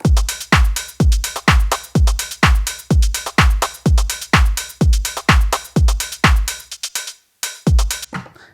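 A steady four-on-the-floor deep house drum loop with punchy kicks and crisp hi-hats, looping evenly, then briefly dropping out before a final hit.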